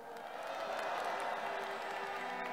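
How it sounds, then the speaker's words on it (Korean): Sustained applause from an audience at a public rally in Seocho, steady and dense, with crowd noise mixed in throughout. "기자들한테 박수 한번 주세요."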